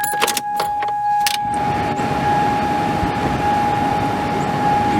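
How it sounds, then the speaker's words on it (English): Heater and AC blower fan of a Toyota Sienna minivan running after a repair, a steady near whoosh of airflow with a faint constant tone, preceded by a few brief clicks and rattles. "might as well test it before I put the covers on and see if it sounds any better now."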